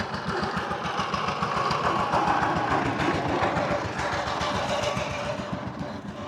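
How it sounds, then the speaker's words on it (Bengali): A motor vehicle engine rumbles steadily along a rural road in cold winter weather, close and continuous with no voices. "মাঝে মধ্যে এরকম যানবাহন ডিস্টার্ব করে"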